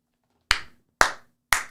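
Three single, evenly spaced hand claps ring out crisply, each about half a second apart with a short decay, in an otherwise quiet room.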